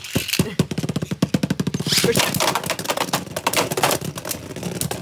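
Beyblade Burst spinning tops launched into a stadium and battling: a loud, rapid rattle of plastic clicks and clashes that settles into a dense, continuous whirring grind, close up, with no talk over it.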